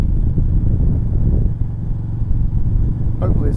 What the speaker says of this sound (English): Y'all probably been hearing the motorcycle in the background.